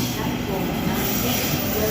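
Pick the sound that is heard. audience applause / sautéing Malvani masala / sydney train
sydney train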